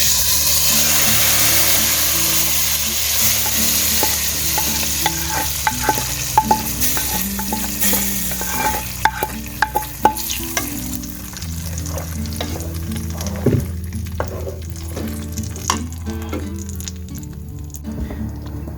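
Golden-brown fried onions tipped into moong daal with palak, sizzling and being stirred, with a steady frying hiss and scattered sharp crackles and spoon clinks close by.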